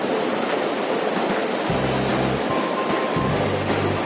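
A steady roar of rushing water from Sapan Waterfall in Bo Kluea, Nan, Thailand fills the scene, broad and constant, with a couple of faint low hums drifting in beneath it.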